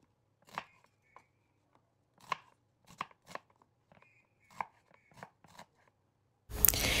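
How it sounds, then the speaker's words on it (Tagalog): A knife chops onion, pear, garlic and ginger on a cutting board in a series of scattered crisp strikes, close up, ending in a sudden burst of noise. "i-chop natin yung sibuyas, yung peras, tsaka yung bawang at tsaka luya"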